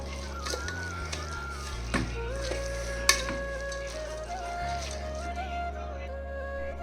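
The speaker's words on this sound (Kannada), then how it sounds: "ಕೊತ್ತಂಬರಿ ಹಾಕ್ಕೊಂಡು ಒಂದು ಸ್ವಲ್ಪ ಪುದೀನ ಹಾಕ್ಕೊಂಡು ಮಿಕ್ಸ್ ಮಾಡ್ಕೊಂಡು" Coriander and mint are stirred into a sizzling frying pan of egg biryani masala, giving a close steady sizzle with repeated scraping stirs and a few sharp clinks of the spoon against the pan.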